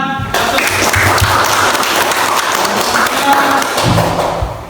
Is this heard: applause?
yes